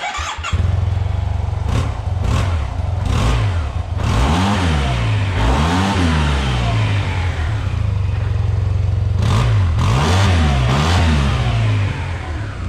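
Yamaha T-MAX scooter fitted with a new Chinese aftermarket exhaust, idling after a start and then blipped through several loud, rising-and-falling revs in two clusters, close to the machine with no talking.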